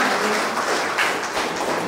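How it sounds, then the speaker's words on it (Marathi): Audience applause at a poetry gathering: a dense, steady burst of clapping from a crowd, loud and close for under two seconds. "ओम गिरी जोरदार टाळ्या करा."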